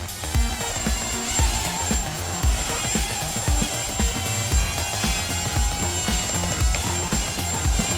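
A Hubsan X4 quadcopter drone flies close by indoors near a table, its rotors giving a continuous high-pitched buzzing whine with slight pulsing fluctuations.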